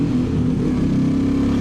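Royal Enfield Bullet 350 motorcycle engine on a ride, a steady low thumping drone with continuous rumble, close and fairly loud throughout the short stretch.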